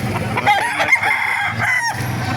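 Roosters crow loudly and repeatedly at a chicken market in Baliuag, Bulacan, with overlapping calls and clucking amid a busy, noisy crowd of birds.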